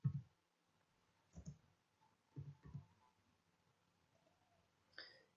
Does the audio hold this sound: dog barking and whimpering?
no